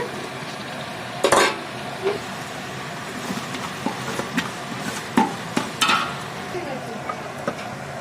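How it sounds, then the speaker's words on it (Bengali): Ginger-garlic paste and chopped carrots frying in a pan, a continuous close sizzle with repeated scraping and knocking of a spatula stirring, some strokes louder than others. "আদা রসুন একসাথে মিক্স করে বাটা দিয়ে দিচ্ছি এটাকে ভালো করে নিয়ে ছেড়ে পাক করে নেব গাজর কুচিগুলো দিয়ে দিচ্ছে"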